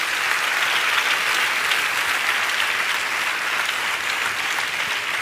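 A church congregation clapping during a Telugu Christian sermon, a dense, steady roar of many hands applauding together at an even level, close and sustained without pause.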